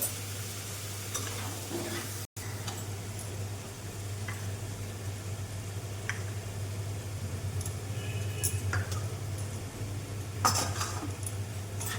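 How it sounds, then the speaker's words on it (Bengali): A spice paste for potato-cauliflower curry fries steadily in a pan, a continuous soft sizzle with occasional clinks and scrapes of a stirring spoon. "এবার এই মশলাটাকে কিছুক্ষণ ভেজে নিই"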